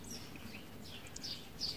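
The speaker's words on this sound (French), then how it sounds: "écoute le bruit des oiseaux, la paix qui en émane" Faint high bird chirps and short tweets sound over a soft, steady outdoor background hiss.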